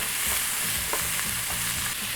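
Onions and celery frying in oil in a pan for zha jiang mian sauce noodles: a loud, continuous sizzle with soft, repeated scraping as the vegetables are stirred.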